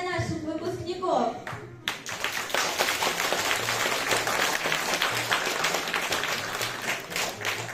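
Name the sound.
audience applause for graduates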